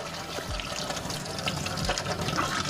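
Water pours steadily over moringa flowers being washed in a pot, a continuous close splashing gush with a couple of low thumps, alone without talk.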